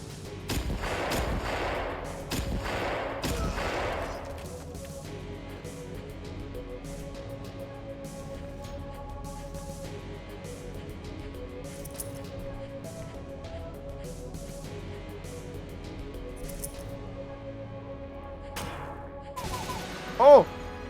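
Pistol gunfire in a video game, a few sharp shots clustered early with scattered cracks later and one loud burst near the end, over quiet game ambience.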